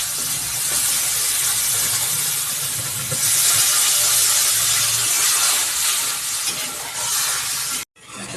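Water poured into sizzling fried spice paste for a fish curry sets off a loud, steady hiss and steam roar that swells midway and cuts off abruptly near the end.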